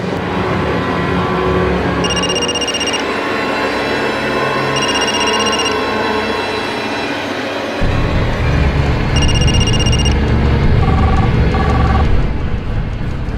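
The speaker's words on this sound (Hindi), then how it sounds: "ये फोन क्यों नहीं उठा रही है?" A telephone rings unanswered in repeated bursts of an electronic ringtone, three rings spaced a few seconds apart over a dense, loud background of music and ambient noise.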